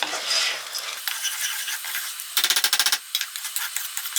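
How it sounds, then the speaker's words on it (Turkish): Dry vermicelli toasting in a pan, stirred with a utensil: a quiet crackle broken by a burst of quick rhythmic scraping strokes, then lighter scrapes. "1 su bardağı şehriye. Hafif pembeleşinceye kadar arkadaşlar kavuracağım."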